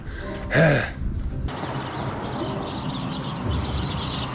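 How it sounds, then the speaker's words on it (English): One short, bright chirp from a house sparrow at the start, close and clear, followed by steady outdoor ambience in an Arizona hill town. "Just a house sparrow."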